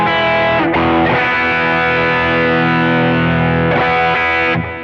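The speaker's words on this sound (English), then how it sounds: "here's how the King of Tone red side sounds" Electric guitar pushed through the red side of a King of Tone overdrive pedal, thick distorted chords strummed and left ringing, with a couple of chord changes over nearly five seconds, loud and alone.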